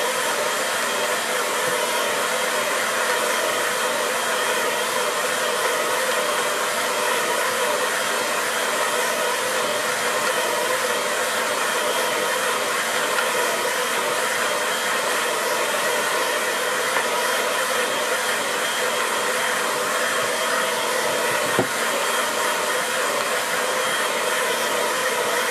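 A hair dryer blows steadily on a watercolour painting, a loud, continuous close-up whoosh and motor hum lasting the whole stretch with no voices.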